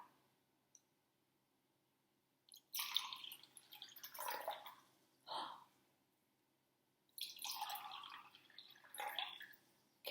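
Water is poured carefully into cups, heard as several separate splashing, trickling bursts broken by short silences in an otherwise quiet room.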